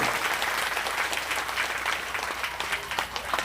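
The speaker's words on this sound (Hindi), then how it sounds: "ताली बजा के स्वागत कीजिएगा" An audience claps steadily to welcome a distinguished guest at a Kabir Panth religious gathering, dense continuous applause heard from within the crowd with no talking.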